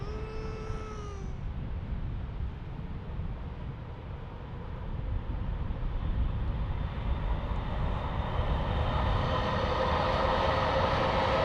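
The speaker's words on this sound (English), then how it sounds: "I've got a visual on our Dreamliner, so that'll be landing here in about" A Boeing 787 Dreamliner landing at San Diego International Airport, a distant jet rumble that grows into a louder steady roar with rising engine whine in the latter half.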